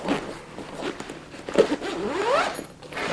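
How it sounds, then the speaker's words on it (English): Zipper pulled closed on a carbon-fiber camera slider bag, a close, scratchy zip with a rising sweep and a few short tugs and pauses, heard alone without talk. "So, if you want to keep the bag zipped up."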